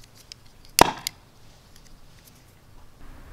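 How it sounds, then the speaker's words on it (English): A single sharp pop rings out as a small hydrogen-oxygen gas bubble is lit with a lighter, brief and crisp, followed by a faint smaller crackle, then quiet background hiss. "I'm gonna light up with my lighter and make a small explosions"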